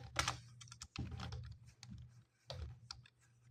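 Text being typed on a computer keyboard in a quiet room, a run of close, crisp key clicks in short uneven bursts over a low steady hum.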